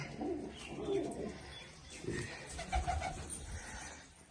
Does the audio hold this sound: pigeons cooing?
yes